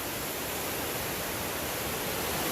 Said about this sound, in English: You got this creek here coming from this direction